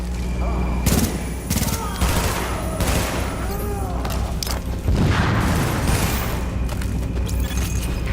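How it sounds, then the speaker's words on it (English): Dense gunfire in The Division, a video game set in lower Manhattan, with loud bursts and booms rolling continuously over several seconds and a voice speaking partway through. "So, that shooting, that was you, right?"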